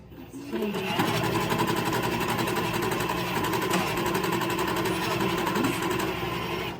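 Electric sewing machine worked by a foot pedal, stitching fabric in a patchwork and quilting class: a steady, dense mechanical whir that runs continuously for several seconds at close range, with a voice speaking over it.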